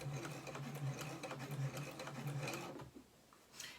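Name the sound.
sewing machine stitching a face mask with shoelaces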